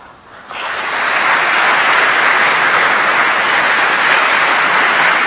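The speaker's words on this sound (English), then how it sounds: "One more round of applause for everybody that came up here." Applause from a gathered audience at a faith event, starting abruptly and swelling into a full, steady wash of clapping that holds loud and even to the end.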